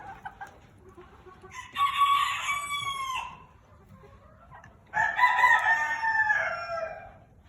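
Bantam White Crested Chocolate Polish chickens call out in a pen, with two loud, drawn-out crowing bursts separated by a pause and soft clucks in between.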